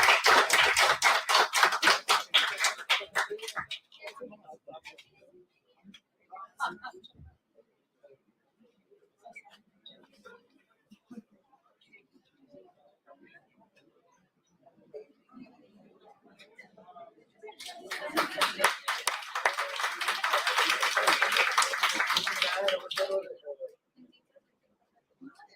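Applause from the audience at a university event, with a loud burst of clapping at the start that fades into scattered sounds and murmuring, then a second strong round of clapping before it dies away.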